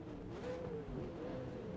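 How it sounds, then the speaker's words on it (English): V8 Supercar engines rev in the rFactor 2 racing game, a faint, steady drone with the pitch rising and falling as revs climb before a race start. "we can keep an eye on the engine notes as they rise once again"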